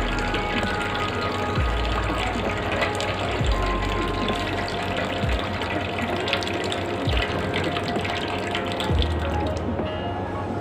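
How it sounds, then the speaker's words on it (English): Water gushes and churns steadily through a Bajaj Pulsar 200 NS motorcycle's cooling system during a distilled-water flush, alongside a pumping mechanical drone, with dull low thumps recurring every couple of seconds. "We have to flush like that till we get white color distilled water."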